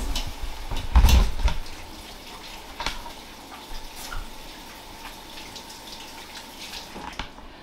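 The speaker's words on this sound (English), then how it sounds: "So I'm going to wash my hands." Tap water runs steadily from close by while hands are washed under it, with a few louder splashes and soft drips and no talk.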